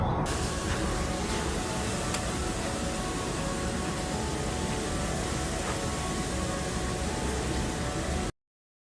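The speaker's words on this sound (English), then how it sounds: "water shoots from the ground into the sky, rising like a pillar" A powerful jet of water sprays steadily with a loud, continuous hissing roar, unbroken for several seconds before cutting off abruptly.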